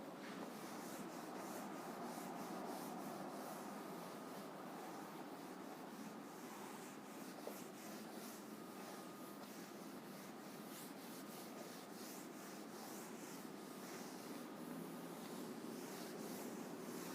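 A board is rubbed clean with an eraser in steady, continuous scrubbing strokes, a dense, even rasping that goes on without pause at close range.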